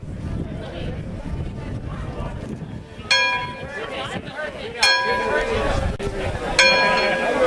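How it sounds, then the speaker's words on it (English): A bell rings out three times at spaced intervals over steady crowd chatter and wind outdoors, each strike bright and ringing with a lingering tone. "Ring the bell."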